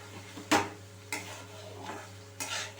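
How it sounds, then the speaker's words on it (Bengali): Masala with ginger and onion frying in a pan, a soft background sizzle broken by a few distinct clinks and scrapes of a utensil stirring against the pan. "এই মশলাটা দিয়ে আমি ভালো করে একটু ফ্রাই করে নেবো"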